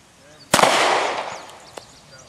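A single sharp pistol shot cracks at an outdoor shooting range, loud and close, followed by a long ringing echo that slowly fades, with a faint second pop near the end.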